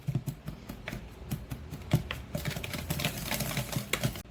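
Flour, granulated sugar and packed light brown sugar are stirred together in a bowl, giving a soft, steady scraping and tapping rhythm that grows busier toward the end, close and fairly quiet.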